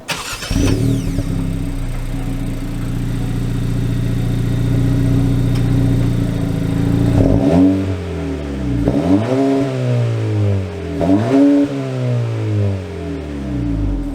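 A 2023 Honda Civic Si engine starts and idles steadily, then revs in three or four sharp rising sweeps as it accelerates, loud and close, with no talking.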